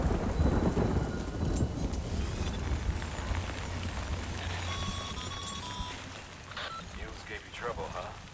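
Steady rain with low rumbling thunder in the video game Death Stranding, a continuous wash of downpour with a deep roll underneath and faint game tones layered over it.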